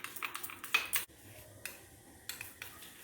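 A spoon scrapes and clinks against a bowl while stirring yogurt with spices for dahi arbi, in irregular close taps and scrapes that fade into a quieter stretch.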